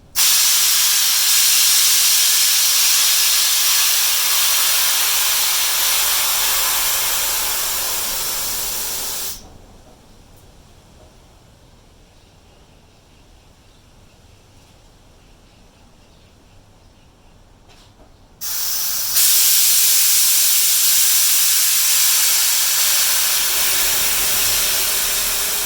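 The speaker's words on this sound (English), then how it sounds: "we'll let the air out" Air hisses loudly and steadily out of a vehicle's rear tires as they are deflated, a broad continuous rush that pauses for several seconds and then resumes at full strength, with no one talking.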